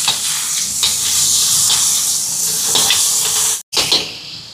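Vegetables and tomato sauté in a pan for a kottu dish, giving a loud, steady hissing sizzle with faint stirring scrapes, cut by a brief silent gap near the end.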